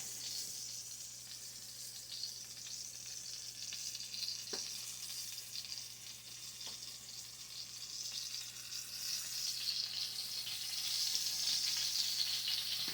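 Hamburger steaks fry in a pan with a constant close sizzle and hiss, rising a little louder toward the end, with a couple of faint knocks and no voices.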